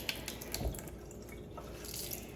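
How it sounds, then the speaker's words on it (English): Hot water runs from a tap into a sink in a soft, steady trickle with a few small splashes, quiet and close, with no voices. "I get running hot water"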